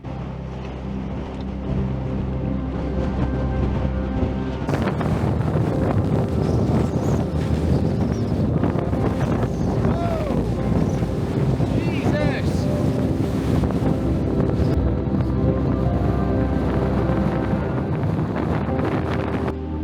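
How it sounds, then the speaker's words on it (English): Strong wind on a hiking route in the Lake District roaring and buffeting the microphone continuously, a heavy low rumble with gusty rushing throughout, voices faintly audible beneath. "I'm facing this way because that wind is absolutely atrocious"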